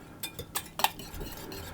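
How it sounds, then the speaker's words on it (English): Three beaten eggs with salt and black pepper are stirred in a bowl, giving a few quick, close clinks of a utensil against the dish, then soft scraping. "I'm going to mix those around"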